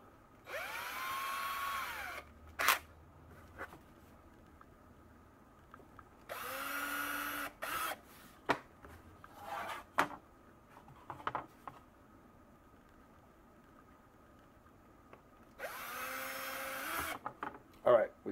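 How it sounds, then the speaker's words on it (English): A power drill bores small pilot holes into wood for a simple shelf, with two distinct whirring bursts near the start and middle and a third near the end, separated by quiet handling clicks. "we'll just drill 2 little holes"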